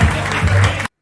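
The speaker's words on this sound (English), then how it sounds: "Their clap is starting to applause." Audience applause for a stand-up comedian, a dense burst of clapping from the crowd lasting under a second before cutting abruptly to silence.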